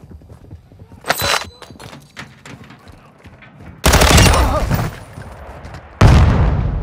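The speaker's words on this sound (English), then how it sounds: "You are taking effective fire." Bursts of gunfire from the video game Call of Duty Modern Warfare 2, with a loud sustained volley and a second heavy burst breaking in after scattered quieter sharp shots and clatter.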